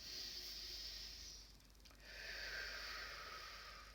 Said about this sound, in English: breathing in through the nose and breathing out through the mouth